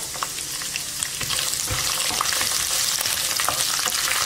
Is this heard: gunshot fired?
no